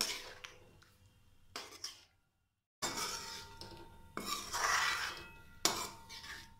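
Whole black masoor dal with coriander leaves being stirred in a pot, with a spoon clinking and scraping against the metal in a few distinct bursts, one separated by a short silent pause, close and fairly clear, with no talking.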